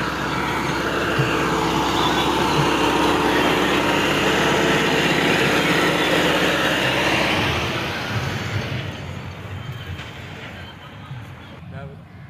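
A tractor pulling a trailer loaded with silage rumbles toward a farm silage machine, its engine loud and steady for about eight seconds before easing off, with voices over the noise.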